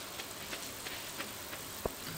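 Rain falling in the Stardew Valley video game, a soft steady patter with a few sharper drop taps, fairly quiet and with no talk.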